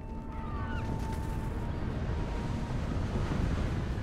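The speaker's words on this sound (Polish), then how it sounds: "Uuuu, jaki wodospad," Waterfall in the Scottish Highlands of the Hogwarts Legacy video game, a steady broadband rushing roar that stays loud and even throughout, with no speech over it.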